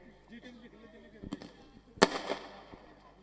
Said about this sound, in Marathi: फटाक्यांची आतिषबाजी केली जाते.